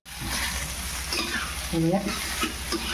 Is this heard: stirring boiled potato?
yes